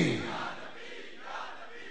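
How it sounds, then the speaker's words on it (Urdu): Sunni crowd seated in Gujranwala chanting a religious slogan together, a brief loud burst of massed voices that fades into a reverberant roar. "اسی کو سن کر اہل سنت کے افراد گوجرانوالہ میں بیٹھے نعرے لگا رہے ہیں"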